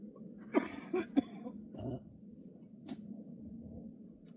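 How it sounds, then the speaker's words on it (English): A few short coughs come in quick succession, faint and close, followed by a throat-clearing sound and quiet breathing. "I will be coughing quite a bit and spitting up sputum."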